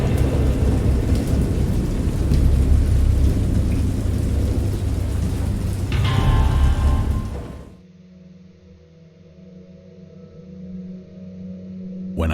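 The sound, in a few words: thunderstorm with rain in the video game Dagon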